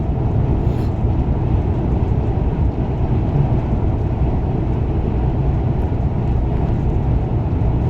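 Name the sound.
train running alongside the truck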